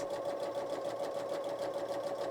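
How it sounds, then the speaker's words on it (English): A sewing machine back stitches across a fabric composition notebook cover, a steady close whirring hum with a fast even needle rhythm throughout. "we're going to go ahead and back stitch at the end"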